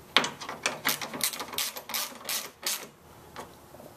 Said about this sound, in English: Place them over the top here and bolt them in place with a 12 millimeter bolt.